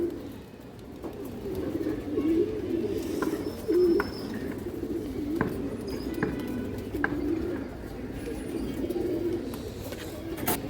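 Domestic pigeons, including a black-feathered hen among old fancy breeds, coo softly and repeatedly nearby, a low, steady murmur with faint background voices.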